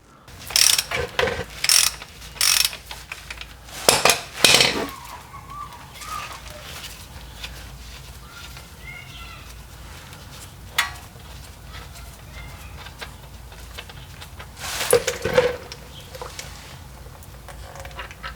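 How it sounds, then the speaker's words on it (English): A transfer case drain plug on a 2005-2009 Equinox, Torrent or Vue is turned with a ratchet in quick clicking bursts, then fluid drains, with faint birds chirping in the background and another burst of ratcheting later. "turn this counterclockwise or to the left and drain out the fluid"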